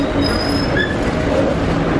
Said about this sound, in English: Mochit train, this is our train, folks.